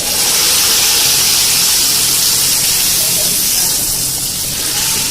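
Hot tadka tempering poured into harissa, a loud, continuous close-up sizzle and hiss that holds steady throughout.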